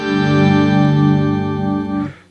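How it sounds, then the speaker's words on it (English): Electric guitar played through an octave pedal with the dry signal slightly lowered and both low and high octaves raised a little, a single thick sustained chord ringing loud and steady for about two seconds before cutting off. "This Octave pedal is set to have the dry signal down slightly,"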